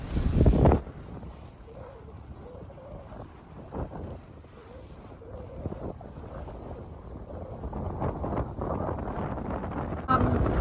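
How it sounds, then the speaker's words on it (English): Strong wind buffets the microphone on an open sailing boat near Ambon, a steady rushing roar with gusty bursts at the start and end, no voices. "it's very windy out here"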